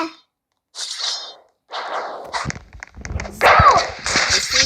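Gunfire in the Roblox underground war game comes as a series of sharp, whip-like cracks and bursts in quick clusters, with brief gaps and a voice talking over parts of it.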